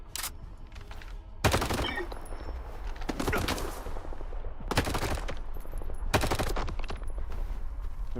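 Repeated bursts of automatic gunfire in a tense video game firefight, loud and close, coming in several sharp volleys over a constant low rumble of background noise.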